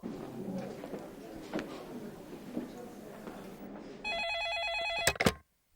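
A telephone rings indoors in a comedy sketch, a steady electronic trill starting partway through after quiet background murmur, ringing loudly for about a second before cutting off abruptly into silence.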